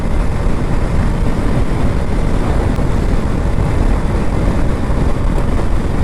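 A Bajaj Dominar 400 motorcycle rides along an open road on a morning trip, giving a steady, loud engine and wind rumble that runs unbroken with no talking.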